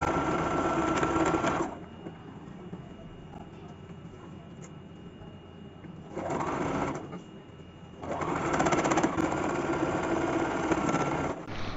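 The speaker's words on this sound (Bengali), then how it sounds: "আমি এখানে সেলাইটাকে ডাবল করে নিব, আপনারা চাইলে সিঙ্গেলও রাখতে পারেন।" Sewing machine stitching a fabric neck strip onto a garment, loud rapid mechanical whirring in several runs separated by quieter pauses, close and continuous.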